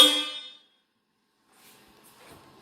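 2003 Honda Accord horns with both high and low tones sounding together, one short loud honk up close that cuts off quickly, followed by faint background noise.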